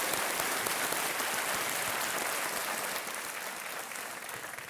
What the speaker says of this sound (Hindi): तालियों के साथ उनका अभिनंदन